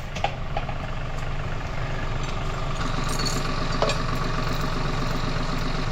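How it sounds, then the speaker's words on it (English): A tractor engine idles steadily and close by, a continuous low, chugging rumble with a rhythmic knock, steady in loudness throughout with no talk. "That tractor's just idling"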